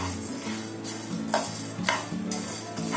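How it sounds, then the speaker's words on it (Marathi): Spices being stirred while they dry-roast in a hot pan with the gas turned off, scraping and rustling with a few distinct stirring strokes over a faint crackle. "पॅन गरम असल्यामुळे ना आपण असं जरा त्याच्यामध्ये ढवळत राहायचं, तर मसाले अजून चांगले भाजून निघतात."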